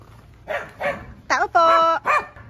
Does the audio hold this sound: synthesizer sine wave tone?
no